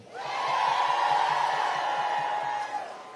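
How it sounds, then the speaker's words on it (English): Crowd at a Women's March rally in Washington, D.C. sends up a loud, sustained wave of cheering and applause that swells quickly and holds steady before tapering slightly. "let's give a round of applause to those who have already voted"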